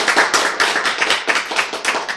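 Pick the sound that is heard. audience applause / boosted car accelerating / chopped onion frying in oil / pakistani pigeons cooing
audience applause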